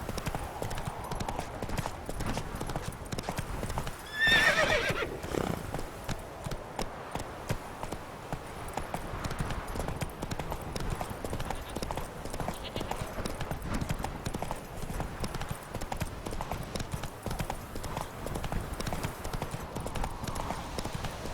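Roach, a horse in The Witcher 3, trots with a steady rhythmic clip-clop of hooves, with a brief louder burst early that could be a neigh, and faint voices now and then underneath.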